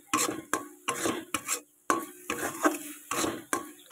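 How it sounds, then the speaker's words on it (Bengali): Carrot laddu mixture being stirred in a pan, a rhythmic series of close scraping strokes from a spoon against the metal, about ten in quick succession with short pauses between. "এটা তলায় যাতে না লেগে যায় সেরকমভাবে একটু নাড়তে হবে"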